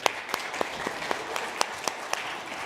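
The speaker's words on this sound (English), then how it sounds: "give a round of applause for everybody here" Applause from a church congregation, with sharper individual claps standing out at irregular moments above a steady patter of hands.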